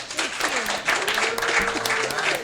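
An audience applauds as Dr. Khalilah Ali, former wife of Muhammad Ali, is welcomed, a steady burst of clapping with voices and cheers mixed through it.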